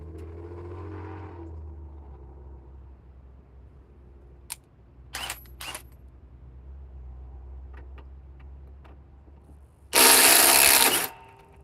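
A brand-new Bosch GDR 18V-1950C cordless impact driver fires a loud, buzzing hammering burst of just over a second near the end, after low background hum and a few faint clicks.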